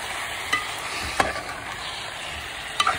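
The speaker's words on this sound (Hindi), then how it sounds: "अब इसमें मैं गोश्त डाल रही हूँ, इसको भी मैं अच्छी तरह से मिक्स कर लूँगी।" Beef being stirred into a pan for shami kabab, with a soft continuous sizzle under a few sharp spoon scrapes and clinks against the pan.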